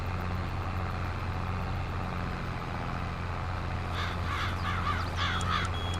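Several crows caw in quick bursts in Farming Simulator 22 over a steady low engine rumble, the calls starting partway through.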